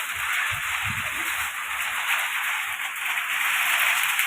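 Dense, steady hiss of rain falling, even and continuous, with faint low rumbles underneath.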